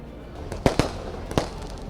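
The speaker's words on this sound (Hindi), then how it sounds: "यहाँ किस तरह से आतिशबाजी हो रही है आप देख सकते हैं" Fireworks go off at a Dussehra celebration on a parade ground in Jammu: three sharp cracking bangs, two close together then one more, against a low outdoor background.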